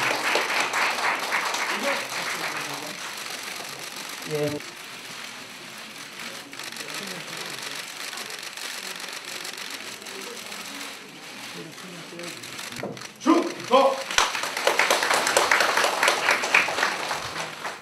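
An audience claps at a ceremony appointing military service publicity ambassadors in Korea. Dense applause opens the scene, then fades under a speaker's amplified voice, and it swells again loudly near the end.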